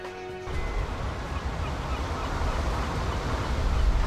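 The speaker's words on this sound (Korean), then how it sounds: "고층 아파트에 둘러싸인 유수지 안 작은 인공섬 위에 저어새들이 둥지를 틀었다." Black-faced spoonbills nesting in a colony on a small artificial island in a retention pond ringed by high-rise apartments, a steady dense wash of low bird clamor and outdoor noise continuing throughout.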